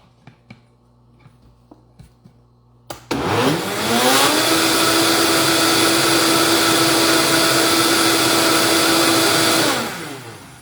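A kitchen blender whirls a peach-cherry smoothie with added stevia: a few soft taps, then the motor kicks on loud, settles into a steady high whine for about seven seconds and spins down.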